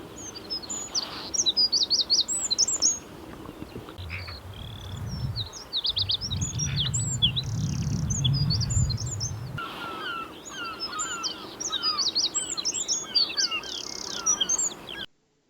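Wrens singing as loudly as they can among other birds in spring, with rapid high trilling phrases repeating throughout, close and bright over a low rumbling background, with no talking.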